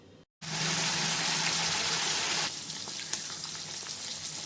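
Paneer browning in hot oil in a pan for palak paneer, a loud steady sizzle that starts abruptly after a brief silence, then eases to a softer crackle with scattered pops.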